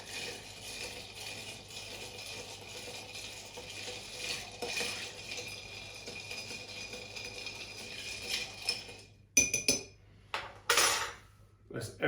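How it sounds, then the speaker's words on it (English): A martini made with Dolin vermouth being slowly stirred in a glass: a steady, soft scraping and clinking that runs continuously, then a few louder knocks and clatters toward the end. "we're going to give that a nice slow stir"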